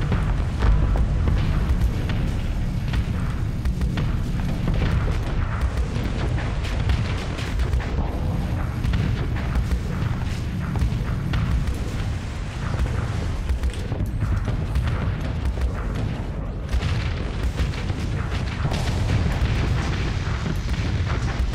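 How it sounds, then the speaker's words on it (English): Siege cannon fire at a ship in the space combat game Starsector: dense, continuous booming explosions and rumbling impacts for over twenty seconds, loud and unbroken, with no talking. "That's a nice juicy target for the siege cannon."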